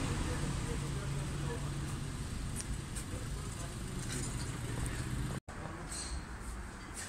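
Continuous street traffic of cars and motorcycles rumbles close by in the Ödemiş market area, engines droning without a break while people talk over the noise.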